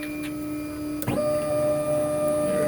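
A CNC router's motors whine steadily as the cutter head lifts, then the pitch shifts sharply about a second in as the gantry travels back toward its home position, holding a constant mechanical drone to the end.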